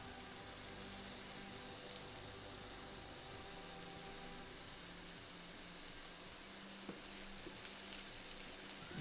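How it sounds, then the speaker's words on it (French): Shrimp fry in sesame oil in a hot pan, a soft steady sizzle with a faint hiss, continuous and quiet throughout with no voices. "On va avoir ici donc la poêle bien chaude. On envoie les crevettes."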